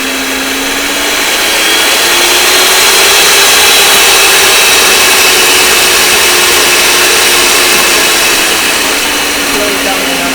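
Electric hand mixer whisking Christmas cake batter, a loud continuous motor whine with a steady pitch that rises slightly and then holds, running close up for the whole stretch with no talking over it.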